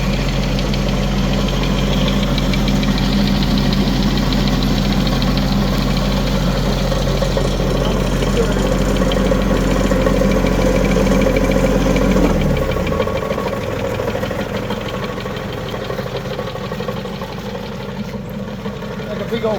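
A Woodland Mills WG24 three-point stump grinder runs with a loud, steady, low drone and knocking throb, then winds down about two-thirds of the way through as its heavy flywheel slowly spins to a stop.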